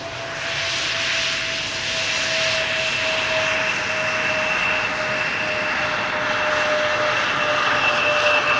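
A KLM airliner arriving from Southampton at Amsterdam Schiphol Airport roars steadily with a whining engine tone, loud and continuous throughout.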